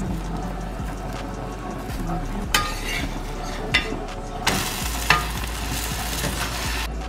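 Paratha roasting in ghee on a pan gives a steady close sizzle, with a few sharper crackles and scraping touches along the way and no one speaking.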